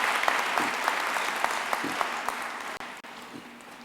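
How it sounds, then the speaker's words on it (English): Sustained crowd applause at a university graduation ceremony on the Qwaqwa campus, steady dense clapping throughout with no talking over it, easing only slightly near the end. "Round of applause to all of them,"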